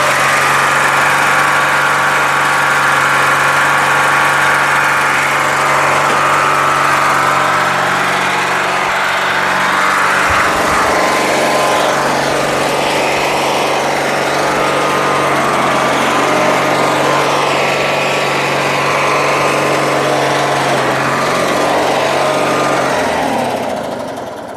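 A rebuilt lawn tractor engine runs steadily, a loud, constant mechanical drone with a bright buzzing whine, briefly roughening midway before continuing and tapering near the end.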